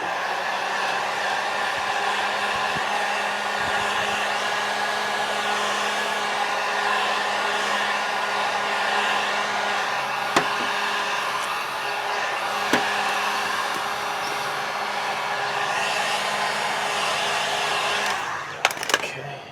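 A heat gun blowing steadily while heating vinyl wrap on a faux mirror cap, a continuous close, loud whooshing roar lasting almost the whole stretch, with a couple of faint taps and a brief clatter as it cuts off.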